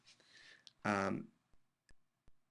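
Several sharp, quiet mouse clicks spaced apart on a computer while copying and pasting into a WordPress page, following a short burst of background voice.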